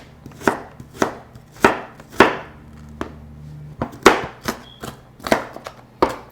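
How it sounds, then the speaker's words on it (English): Onion being rough-chopped with a knife on a board for a chicken casserole: about a dozen sharp, close knife thuds at an uneven pace, each one crisp and loud with short quiet gaps between. "Just rough chop and throw that in."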